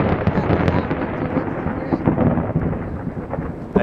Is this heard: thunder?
yes